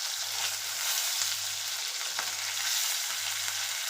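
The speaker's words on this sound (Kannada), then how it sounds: "ಡೀಪ್ ಫ್ರೈ ಮಾಡಕತ್ತೀನಿ ನಾನು." Mackerel pieces deep frying in hot oil, a steady close hiss of sizzling with four regular low bubbling pulses, no talking.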